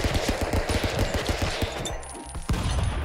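Rapid automatic gunfire in the cartoon brawler game Stick Fight. It is a loud, close, evenly spaced burst of shots that breaks off near the end, followed by a single heavier bang.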